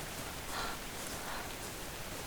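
In ARK Survival Evolved, game rain pours down as a constant, gentle wash of pattering noise, unbroken and fairly quiet throughout, with no voices.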